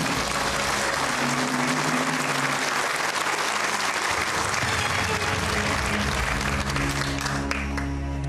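Studio audience applause on the quiz show Who Wants To Be A Millionaire, a dense, loud, continuous wash of clapping from a full crowd, sustained throughout with a musical sting under it.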